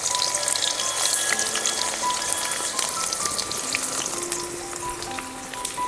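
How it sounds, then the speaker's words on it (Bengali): Sliced onion hits hot oil in a pan for a duck meat curry, giving a dense, steady sizzle that crackles evenly throughout at close range, with no talking. "তেলটা গরম হয়ে গেছে। এবার এর মধ্যে আমি দিয়ে দেব পেঁয়াজ।"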